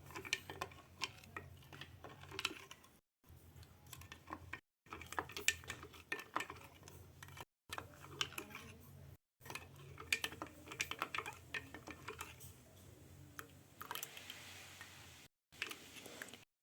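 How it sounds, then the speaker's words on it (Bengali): A spoon stirs sugar into a sattu drink in a glass, giving a run of quiet, rapid clinks and ticks against the glass, repeated in short bursts with brief pauses between them. "এখানে আমার চিনিটা দিয়েছি। এবার আমি ভালো করে আরেকটু নাড়িয়ে নেব।"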